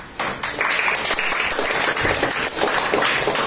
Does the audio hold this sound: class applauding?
yes